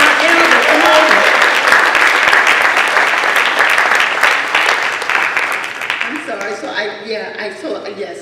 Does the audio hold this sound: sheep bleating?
no